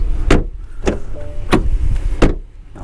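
The door of a 2023 BMW i4 eDrive35 is shut repeatedly, giving four heavy, close thuds spaced about half a second apart.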